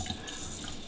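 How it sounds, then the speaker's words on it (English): Water running steadily through a black Berkey water filter element as it is primed, a continuous close trickling hiss that lasts throughout. "this black cylinder needs to sweat water for about 5 seconds"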